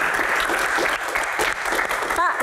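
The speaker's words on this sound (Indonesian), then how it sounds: "tepuk tangan dong" A studio audience claps through the whole stretch, a dense, even applause with voices and crowd noise mixed in underneath.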